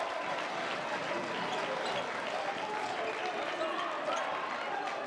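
Applause and cheers rise from a modest, socially distanced crowd at a college men's basketball game, Stephen F. Austin versus Abilene Christian, after a tip-in. The noise is steady and moderately distant, with an announcer's voice talking over it.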